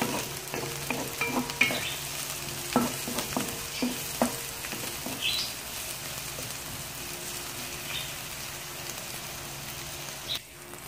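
Chili fries in a pan as the base for crab cooked in coconut milk, giving a steady, close sizzle broken by scattered clicks and scrapes of stirring throughout.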